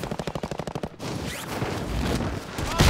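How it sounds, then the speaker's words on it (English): A double-barrel shotgun in the video game Warzone fires a loud blast about a second in, after a run of quick rhythmic thumps, and is followed by a sustained, noisy roar. "The only gun I got was this double barrel shotgun"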